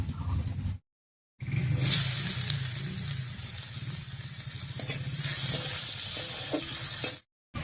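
Chopped onion hits hot oil that already holds bay leaf, whole garam masala and cumin, bursting into a loud sizzle that keeps crackling, with faint stirring sounds and a brief silent gap near the start.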